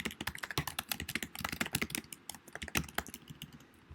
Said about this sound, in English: I can type anything I want